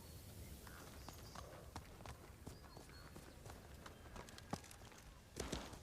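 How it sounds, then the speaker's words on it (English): Horse hooves galloping in Ghost of Tsushima, a quiet, steady run of clip-clop beats with a heavier thud near the end as the horse lands a jump. "Nice jump, horsey."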